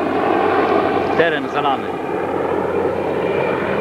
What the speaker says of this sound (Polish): Śmigłowce wciąż patrolują jeszcze